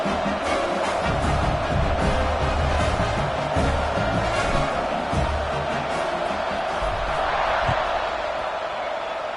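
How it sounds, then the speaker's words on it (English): A large stadium crowd in the college football game NCAA 26 roars steadily throughout as the teams line up for a kickoff, a continuous wash of cheering with a commentator's voice over it. "They're set to kick it off, and this crowd now ready to get behind them."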